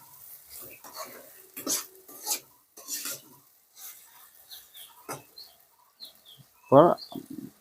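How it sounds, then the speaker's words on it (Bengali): Spices being mixed by hand into chopped banana flower, giving intermittent soft rasping and rubbing strokes at close range, with a sharper, louder scrape near the end. "সুন্দর করে মিশাবো যাতে টোটাল মশলাটা মোচার সঙ্গে মিশে যায়"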